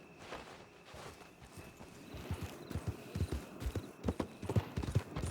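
Horse hooves clip-clop at a steady walking rhythm, growing closer and louder, as a horse-drawn cart moves in the Red Dead video game.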